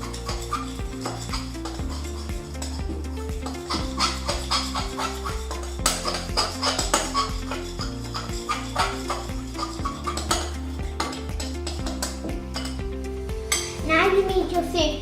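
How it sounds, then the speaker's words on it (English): A spoon scrapes and clinks around a bowl while slime mixture is stirred, rhythmic scraping under background music and a voice. "Now mix it all together with your spoon."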